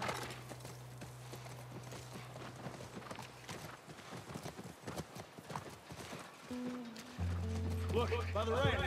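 Rhythmic clip-clop of horse hooves trotting steadily, mixed with game-like tones and a background hum, with talking over it.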